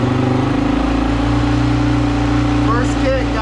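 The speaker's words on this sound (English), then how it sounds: "First kick, guys. 450R motor and a 450X." A Honda CRF450R engine swapped into a 2006 CRF450X fires up after kick-starting, a loud, close, steady idle with a throbbing low rumble running through the whole moment, and a person speaking over it near the end.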